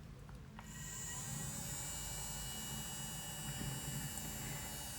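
A small electric fan runs steadily to dry freshly painted nails, a constant low hum and airy whir close by, starting slightly quieter then holding even.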